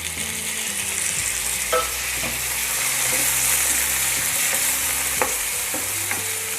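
Roughly chopped tomatoes hit a pan of frying onions for restaurant-style shahi paneer, giving a steady, close sizzle with scraping stirs and occasional clinks of a spoon throughout.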